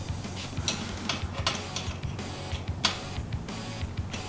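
A 5mm Allen wrench tightening the bolts on a bike rack at the rear dropouts for a surfboard carrier: close, rhythmic metallic ticks and clicks repeating steadily, no voices.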